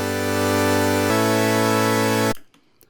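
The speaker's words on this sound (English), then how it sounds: "We're going to be using the hypersaw waveform" A Serum hypersaw synth waveform holds a loud, bright, buzzy sustained tone, shifting pitch once partway through, then cutting off abruptly into near silence.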